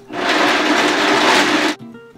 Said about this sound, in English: Now we're gonna blend it up in my blender